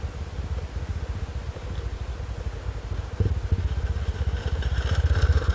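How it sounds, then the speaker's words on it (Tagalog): A motorcycle engine rumbles close behind on a mountain road in the hills of Rizal, a steady low drone that grows louder and rougher partway through as it draws nearer, with no talk. "May motor sa likod natin."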